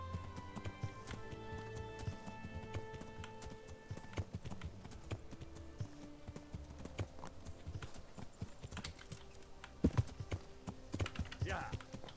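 Horse hooves clip-clop in a steady trot while riding in the video game Kingdom Come: Deliverance, with light clatter and background game sounds.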